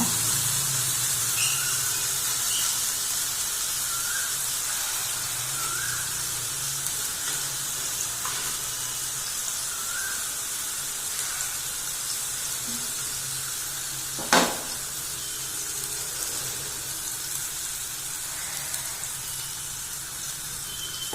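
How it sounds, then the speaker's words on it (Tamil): Seer fish fries in a pan of oil with a steady, close hiss and sizzle, faint pops and crackles throughout, and one sharp clack partway through. "இந்த மாதிரி நீங்கள் வறுத்து பாருங்கள், செம்ம டேஸ்டியாக இருக்குங்க."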